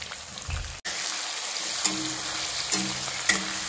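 Onion sizzling and frying in a pan with ginger-garlic paste and salt for chicken biryani, a steady crackling hiss with a few louder stirring scrapes and clinks of a spoon, close and continuous.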